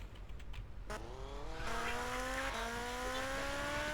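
A motorbike in GTA Vice City revs and accelerates, its engine tone climbing steadily after a brief quiet start, fairly faint and alone.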